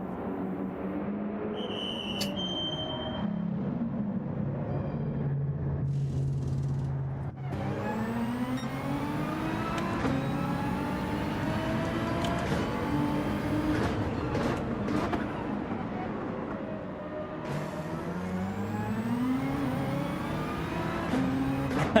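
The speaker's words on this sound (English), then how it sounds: "Yeah, the Z4 is a loud car," A BMW Z4 engine in Gran Turismo 7 drones steadily, rising in pitch as it accelerates through several gear changes, loud and continuous throughout.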